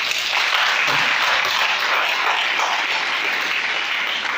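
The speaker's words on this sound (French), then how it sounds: "Acclame très fort." An audience applauding loudly at a French-language church gathering, a dense, continuous wash of clapping that stays strong from start to finish.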